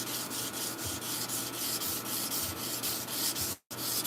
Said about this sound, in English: I've not hand sanded this thing in a long time